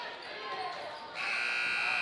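At a junior high boys' basketball game, a loud electronic buzzer blares to end the first half. It comes in sharply after a second of gym noise and a commentator's voice, and it holds steady.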